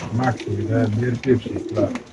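Pigeons at a crowded pigeon market coo in repeated low, throaty bursts, close by and overlapping, with human voices talking around them.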